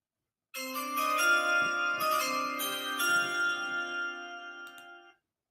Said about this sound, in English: When you hear that now, you hear that chime, we know what that means.